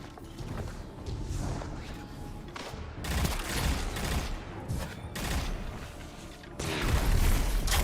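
Rapid bursts of gunfire with a sharp blast in the Destiny Trials game, rattling in dense volleys across the stretch with a louder burst near the end, no talk over it.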